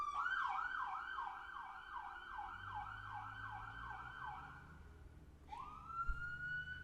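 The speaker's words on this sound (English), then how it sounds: "But can we stop with the sirens" A wailing emergency siren cycles steadily up and down, heard from a distance in the street, then shifts into a rising yelp toward the end, with faint road rumble beneath and no talking.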